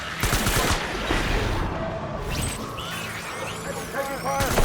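Dense WWII battlefield gunfire in the game Death Stranding, rapid bursts of rifle and machine-gun shots crackling continuously with sharp cracks and a few whistling ricochets, loud and close, with occasional shouting voices mixed in.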